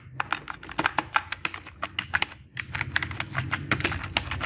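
Rapid, close typing on a computer keyboard, uneven bursts of sharp key clicks with a brief pause partway through and no talking.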